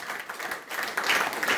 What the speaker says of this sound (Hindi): जबरदस्त तालियां होनी चाहिए उनके लिए।